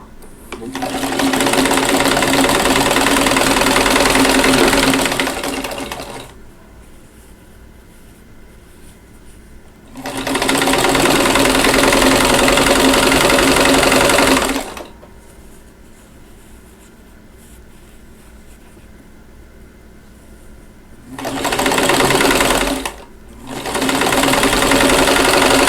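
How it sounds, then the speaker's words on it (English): Sewing machine stitching quilt squares and triangles, running in loud steady bursts of several seconds each, with quiet pauses between runs and a short final burst. "the sewing machine."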